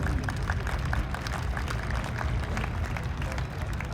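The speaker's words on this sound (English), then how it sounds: "a quick show of appreciation by a round of applause for these 5 groups" A crowd at a cattle show applauding in a show ring, a steady, fairly distant patter of many hands with a low rumble of the outdoor venue underneath.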